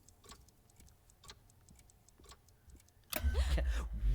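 Clock in the Alone in the Dark video game ticking in a slow, regular beat of sharp clicks, quiet and close, before a loud burst of sound and low rumble swamps it near the end.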